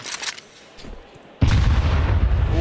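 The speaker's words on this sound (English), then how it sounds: "Fantastic grenade here from Tania." A grenade explodes in a Counter-Strike match, a sudden loud boom that cuts in after a quieter stretch of faint game sounds and then rumbles on steadily to the end.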